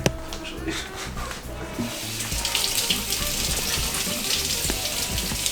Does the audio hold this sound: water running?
yes